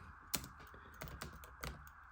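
Computer keyboard typing a Linux terminal command, a handful of quiet, close clicky keystrokes in an irregular rhythm with short pauses between them.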